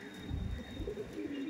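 Madrasi pigeons coo in low, soft, rolling throbs close by, a steady murmuring burble with no voices over it.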